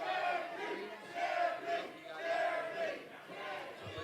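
A wrestling arena crowd roars and chants for JP Grayson during a match, a dense sustained swell of voices rising and falling in waves, loud and continuous with no single voice standing out.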